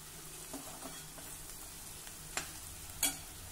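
Chopped onion fries gently in oil in a pan, a low steady sizzle broken by a few spoon scrapes and taps, the sharpest two near the end, close and fairly quiet.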